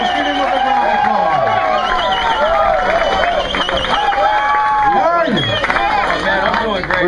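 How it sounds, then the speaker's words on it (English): An audience claps and cheers at a pro bass fishing tournament weigh-in, a sustained wash of applause under a loud announcer's voice talking over it throughout. "Let's get him a big round of applause."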